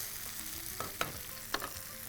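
Mushrooms with salt sauté in a pan with a soft, steady sizzle, and a few sharp scrapes and clinks of a spatula stir through it.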